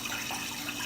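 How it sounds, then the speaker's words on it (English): Water runs from a faucet in a short, faint, steady hiss with no voices. "Now, the faucet."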